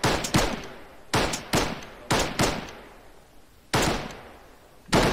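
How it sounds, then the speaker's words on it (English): Sharp gunshots in Arma 3 crack in irregular bursts, some in quick pairs, each echoing and fading before the next, loud and close with no voices. "Charlie's moving across gunfire, hold."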